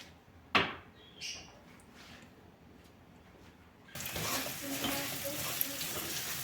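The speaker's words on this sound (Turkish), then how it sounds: "Şöyle bir tarafta kıymalı harcımı yapıyorum." Minced meat filling sizzles and fries in a pan on a home stove, a steady, fairly loud hiss that starts partway through after a quieter stretch with a few soft kitchen knocks and clinks.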